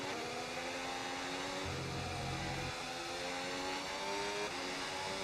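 An F1 race car engine in the F1 26 racing game, a steady high whining drone that holds for the whole stretch with a brief lower tone near the middle, moderately loud with no talk.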